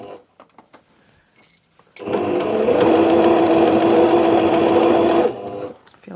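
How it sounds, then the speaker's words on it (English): A domestic sewing machine runs at steady speed for about three seconds, stitching a fabric project bag with its lining, loud and close, between quieter handling sounds. "I feel like my sewing machine is very loud today."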